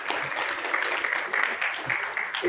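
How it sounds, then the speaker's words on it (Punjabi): Steady applause from a hotel meeting audience of a manufacturers' association in Ludhiana, greeting a newly elected finance secretary; dense continuous clapping throughout, fairly loud and even. "ਥੋੜਾ ਤਾੜੀਆਂ ਹੋ ਜਾਣ ਇਹਨਾਂ ਬਾਰੇ"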